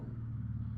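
A car's engine rumbling steadily as the vehicle is about to pull away, a low idle drone held close and even throughout, with no voices.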